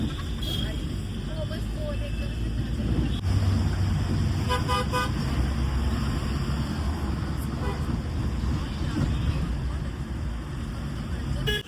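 Busy Mumbai road traffic near the Gateway of India hums continuously with engines passing, while several short car horn toots sound at intervals; people talk nearby over the noise.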